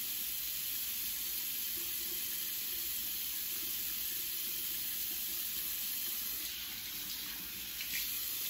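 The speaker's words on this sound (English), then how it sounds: "I'm gonna put a little bit of water on my hands, just a little bit" Water running from a sink tap and splashing onto hands during a nighttime skincare routine, a steady close hiss that continues throughout with no talking.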